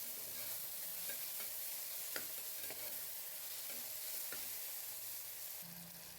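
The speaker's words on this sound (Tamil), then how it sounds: "இப்போ வதக்குங்க." Vegetables, ponnanganni greens, sautéed in a hot pan with steady sizzling and frying, broken by repeated sharp scrapes and clinks of a spoon stirring against the pan, loud and close with no talking.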